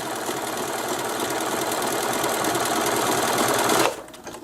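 A sewing machine stitches steadily around a fabric coaster, a fast continuous mechanical whir close to the mic that stops abruptly near the end.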